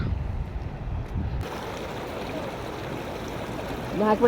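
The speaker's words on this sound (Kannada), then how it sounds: "ನದಿ ಇದು" Steady broadband rush of a very large river flowing, continuous and fairly close, with a voice briefly audible near the end.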